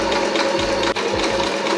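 A sewing machine stitching fabric for a skirt, running loud and close with a steady rapid mechanical rattle, briefly pausing and then continuing without speech.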